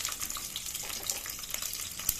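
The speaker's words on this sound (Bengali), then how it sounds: "তাহলে চলো, তেল গরম হয়ে গেছে, ওর মধ্যে দিয়ে দেবো কাঁচা লঙ্কা চিড়ে রাখা," Slit green chillies frying in hot oil in a nonstick pan, giving a steady close crackling sizzle with small pops throughout, no voices.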